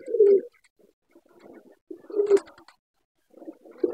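Pigeons give low, throaty coos in a few short bursts separated by quiet gaps, close and clear with no other noise.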